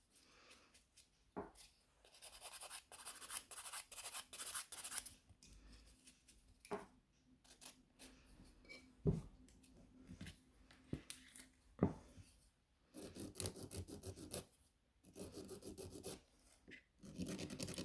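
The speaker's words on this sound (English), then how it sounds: "So just file it through the entire surface of the nail like this." A hand file rasps across the whole surface of a sculpted short acrylic nail extension in bursts of quick back-and-forth strokes, close and soft, with brief pauses between passes.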